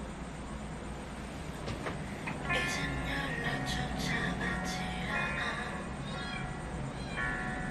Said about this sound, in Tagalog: May umiyak na pusa.